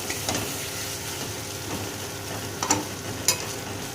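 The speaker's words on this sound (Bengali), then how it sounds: "এই সময় টমেটোটাকেও দিয়ে দিয়েছি, দিয়ে এবার ভালো করে সমস্ত মশলাকে একসাথে কষিয়ে নেব।" Tomato and spices sautéing in a pan for chicken curry give a steady close sizzle and fry, with a few scraping stirs and clinks standing out near the end, and no talk.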